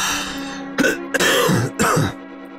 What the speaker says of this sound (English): Pardon my coughing, I apologize continuously.